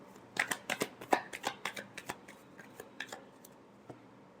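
Tarot cards being shuffled, a rapid run of crisp riffling snaps and flicks that thin out toward the end, close and fairly quiet with no voice.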